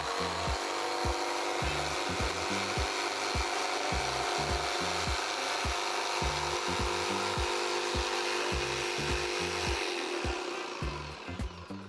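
Bosch power tool running continuously, a loud buzzing whine with a rapid rhythmic rattling vibration underneath, tapering off at the very end.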